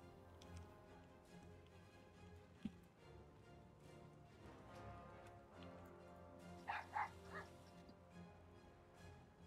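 A small dog barks, yips and whimpers in short scattered bursts, fairly faint, over a quiet background of game sounds during a World of Warcraft: The War Within session.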